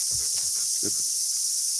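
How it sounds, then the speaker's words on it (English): Cicadas drone loudly outdoors in a constant, shrill buzz that never lets up, over a few soft low thumps and rustles nearby. "the cicadas are going crazy, man"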